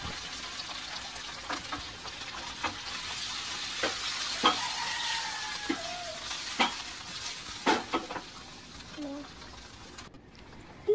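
Food sizzles in hot oil in a pan, a constant bubbling hiss broken by clinks and scrapes of stirring, heard close and at moderate level with no one speaking.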